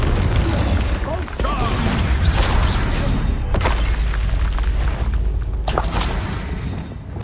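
Fiery blast from the Confringo spell in a Harry Potter video game, a loud rumbling boom with crackling debris, followed by further heavy bursts and thuds throughout, dense and close.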